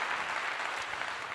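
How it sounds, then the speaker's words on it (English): Applause from an audience honoring a long-married Black couple, a steady wash of clapping throughout, fairly close and even, with no voices over it. "Gotta give them a clap for that again."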